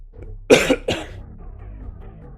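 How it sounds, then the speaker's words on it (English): A person coughs twice in quick succession, harsh and close, then falls quiet into a low background murmur. "And now I can't stop coughing."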